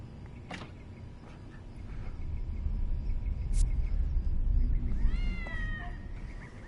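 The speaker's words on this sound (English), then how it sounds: "And there's a cat in here as well." A cat in the PSVR video game The Assembly meows a few times over a low, rumbling room ambience, with the clearer meows near the end.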